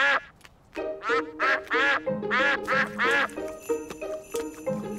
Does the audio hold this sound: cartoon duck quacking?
yes